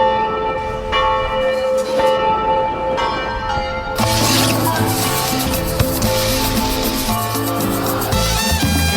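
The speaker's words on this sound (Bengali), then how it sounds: "সে ক্যাথিড্রালের বেল বাজানোর আমন্ত্রণ পেয়েছিল" A cathedral bell in Mexico rings out loud and close, its long metallic tones layering and sustaining over one another. A second, stronger strike series enters midway, filling the space with dense, overlapping resonance.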